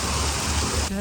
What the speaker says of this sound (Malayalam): രാവിലെ തന്നെ നല്ല മഴ